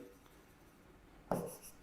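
A pen scratching across paper during a logic lesson, a brief quiet rasping stroke that starts suddenly and lasts about half a second, with no talk over it.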